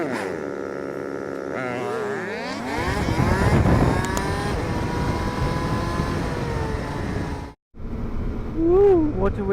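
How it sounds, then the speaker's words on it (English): An Audi TT sports car passes on a Sunday drive, heard from a nearby motorcycle. A rising engine note swells and sweeps by loudly, then cuts briefly and returns with revving. "A little sports car. Little Audi. It's an Audi TT."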